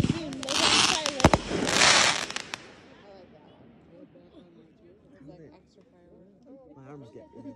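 Fireworks show near a cabin: a loud burst of crackling explosions at the start fades out, then people keep talking over faint distant pops.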